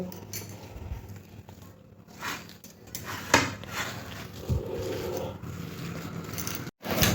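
Mashed potato, chopped onion, chilli and coriander leaves get mixed together in a bowl, with soft close scraping, squelching and occasional light clinks of utensil against the bowl, uneven and continuous.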